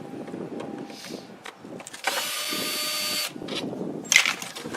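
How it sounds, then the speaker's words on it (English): A cordless drill whirs steadily for about a second at close range, amid clattering and handling noises before and after, ending with a sharp knock. "So you pull those out with your handy dandy drill."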